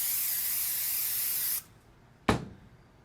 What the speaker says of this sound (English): It's a thin spray